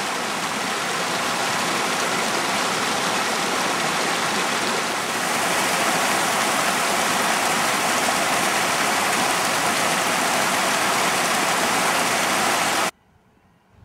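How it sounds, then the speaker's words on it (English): Mountain streams in the Hoover Wilderness near Summit Lake at about 10,000 feet, a steady, full rushing of water over rocks, close and constant, swelling slightly midway before cutting off abruptly near the end. "After the junction, I passed by several streams."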